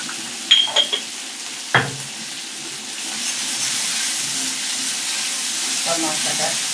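Spices with turmeric powder and salt frying in oil for doi potol, a steady broad sizzle rising and holding after a few sharp knocks of a utensil against the pan, close and fairly loud.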